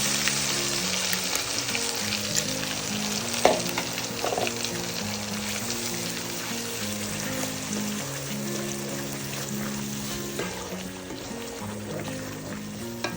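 Butter sizzles in a pan on the stove as butter chicken is prepared, giving a continuous close frying hiss with scattered crackles and occasional stirring, no voices, for over ten seconds.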